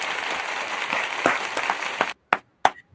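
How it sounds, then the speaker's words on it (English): People clap along on a discussion podcast, a busy patter of hand claps that stops abruptly, followed by a few isolated, sharp single claps. "let's give a good old hand clap."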